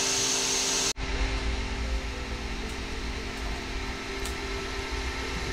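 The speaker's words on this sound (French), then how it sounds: "il est en train d'extruder un peu de matière ici et l'impression se lance directement" A Creality Ender 3 V3 SE 3D printer extruding filament and starting a print gives a steady, loud mechanical whir with a broad airy hiss and a low hum, cutting in abruptly after a brief click, with no talking.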